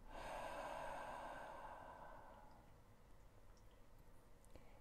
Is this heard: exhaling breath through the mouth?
yes